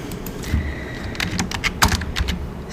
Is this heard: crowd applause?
no